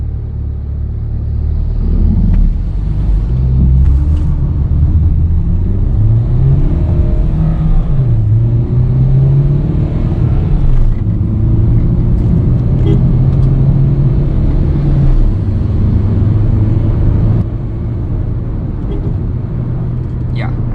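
A steady low rumble of a used Renault Duster diesel with automated manual gearbox driving along an open road, the engine note rising and easing as it speeds past 100 km/h, with a voice talking over it throughout.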